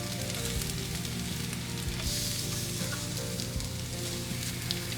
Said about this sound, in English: Okay, so I'm gonna flip the tofu over.